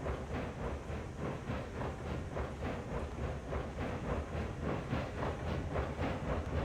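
A train in Railroads Online rolls through a curve at a slow throttle setting, giving a steady rhythmic clickety-clack of wheels over rail joints with hissing, repeating evenly and close throughout, no talking.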